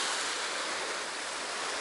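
Sea waves at the beach in Incekum, Alanya, wash in a steady, full hiss of surf, continuous and close with no voices.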